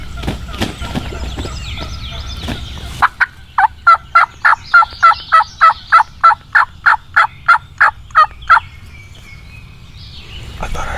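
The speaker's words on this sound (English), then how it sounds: "That was not the gobbler roosted in the tree." Wild turkeys on a New York spring hunt: a sharp run of about fifteen evenly spaced calls rings out nearby and loud after a few scattered clicks, with faint rustling in the background.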